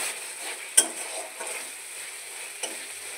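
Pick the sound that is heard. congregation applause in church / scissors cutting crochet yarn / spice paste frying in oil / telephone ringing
spice paste frying in oil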